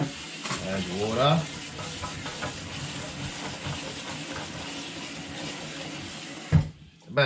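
Water gushes and splashes into a metal pressure cooker, a steady rushing pour with a clunk near the end before it stops.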